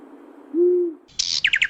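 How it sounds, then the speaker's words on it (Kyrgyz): An owl gives a single low, smooth hoot, followed by a burst of higher chirping calls, loud and close with no talking. "Бул үкү түндө аябай жакшы көрөт."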